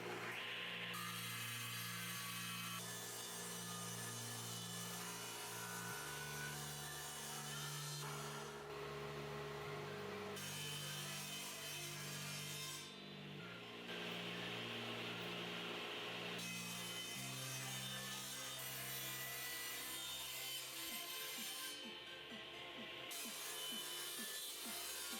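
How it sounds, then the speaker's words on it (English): Table saw cutting wood to size for a planer/jointer knife sharpening jig: a steady, loud whine that runs throughout, with pitch and pressure shifting as each cut begins and ends. "Now I'm going to take it to the table saw, cut it to its proper dimensions"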